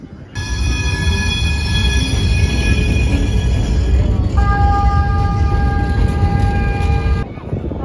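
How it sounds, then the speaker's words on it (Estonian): A train rolls across a bridge in an old Portuguese town, its steady heavy rumble loud and close, with sustained high metallic wheel squeals shifting pitch midway before cutting off. "Ja ongi rong saab ka siin niimoodi sõita ja siis jalakäijad tuiavad ka kõik siin sama silla peal."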